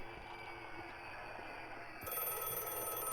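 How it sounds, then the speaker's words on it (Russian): Telephone ringing in the video game Radiolight, a repeated electronic bell tone under a constant background hum that grows louder and brighter partway through, no speech. "Новая цель — ответить на звонок."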